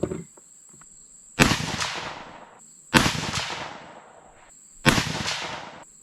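Three sharp rifle shots from a 6 Dasha, spaced about one and a half seconds apart, each cracking loudly and trailing off in a long outdoor echo over a faint steady insect buzz.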